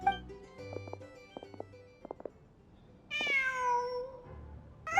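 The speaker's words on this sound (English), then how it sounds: "Just a cat." A cat meows in the video game Genshin Impact: one clear, drawn-out falling meow rises out of quiet game sounds and soft chimes, close and distinct.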